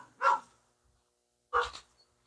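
A dog in a rural field where its owners are working barks twice from a distance, each short bark standing alone against near silence with a gap between them.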